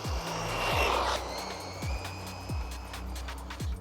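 A cheap RC buggy running on a 3S battery at full throttle gives a steady electric whine with rising pitch sweeps as it speeds past, clearly heard alone.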